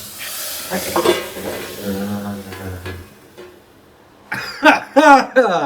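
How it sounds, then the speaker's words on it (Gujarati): A brief hot-oil sizzle and crackle of spices hitting a pan for dal tempering, with a cough and clattering cookware, then a person speaks. "તડકો મારી રહ્યા છે ભાઈ."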